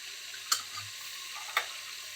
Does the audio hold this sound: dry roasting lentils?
yes